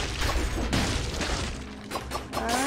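A bomb goes off in Dead Cells, giving a sharp crashing boom and crackling debris that sit close and loud, followed by short game effects and a rising tone.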